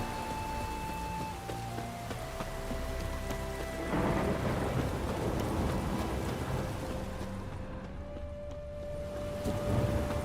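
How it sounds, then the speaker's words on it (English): A thunderstorm in The Witcher video game brings steady, dense rain with rolling thunder rumbling underneath and faint sustained musical tones, with no speech. "A storm, damn it."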